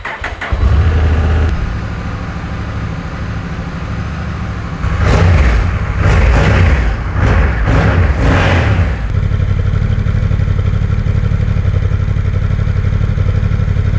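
A Honda NT1100 DCT motorcycle's 1100cc engine idles with a deep rumble, then revs in several sharp throttle blips before settling back to a steady idle, loud and close.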